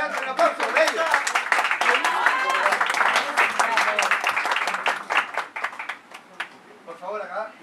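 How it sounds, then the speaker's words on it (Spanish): Audience applause and clapping for a tango couple dancing a milonga at a blindfold dance challenge, steady dense clapping with voices mixed in, tapering toward the end as a voice speaks. "Adelante, un aplauso para ellos."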